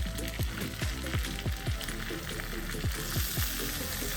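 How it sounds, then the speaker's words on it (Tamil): King fish frying in a pan: a loud, continuous oily sizzle with rapid crackling, plus repeated low scraping or stirring knocks at a steady rhythm. "கிங் ஃபிஷ்ஷெல்லாம் வறுந்துருச்சு"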